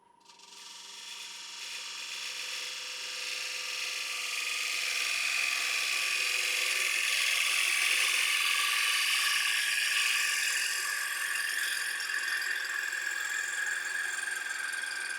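A mulberry wood bowl spins on a woodturning lathe as a tool cuts the side wall, producing a steady hiss and whirring scrape that builds and holds at close range.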